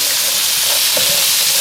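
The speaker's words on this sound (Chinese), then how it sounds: "料炒香，我们放入小龙虾尾。" Crayfish tails hitting hot oil and spicy mala sauce in a wok with scallion, ginger and garlic, giving a loud, steady broadband sizzle with faint stirring scrapes and no voices.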